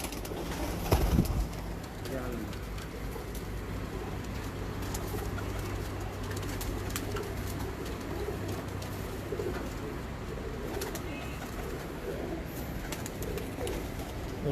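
Pigeons coo on a rooftop pigeon loft in Multan, their low repeated calls steady throughout under a faint background murmur, with a brief louder knock near the start.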